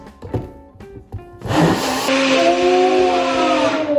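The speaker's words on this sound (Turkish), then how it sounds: "Tamam şimdi karıştıracağız." A few light clicks and knocks give way to a blender switching on and spinning up to a loud steady whir as it mixes a kiwi fruit smoothie, holding for about two and a half seconds.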